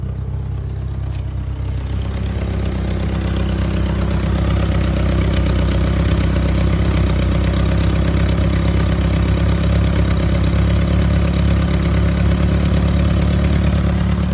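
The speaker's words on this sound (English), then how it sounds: "MR2 started. It's coming to an idle." A Toyota MR2 turbo engine turns over and settles into a loud, steady idle with a low rumble and faint rhythmic ticking, recorded up close in the engine bay.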